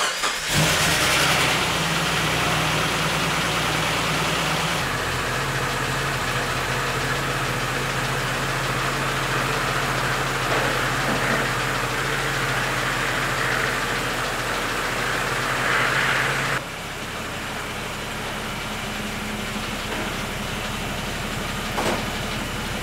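A Jeep YJ engine, just regeared from 3.55 to 4.56 on its Dana 30 axle, runs steadily and close. Its tone shifts once early on, then drops to a quieter, lower idle near the end.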